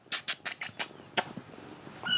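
A cat cries in a series of short, loud meows about five in quick succession, then one more after a pause, with a faint high chirping sound at the very end and no talking.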